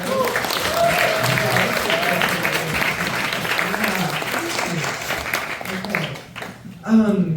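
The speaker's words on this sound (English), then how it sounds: "One more time, everyone, a round of applause." A crowd at a talk and Q&A session after a film screening applauds steadily, a dense wash of clapping that fades near the end as a voice begins.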